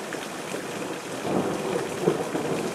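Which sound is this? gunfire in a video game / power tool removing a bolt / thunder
thunder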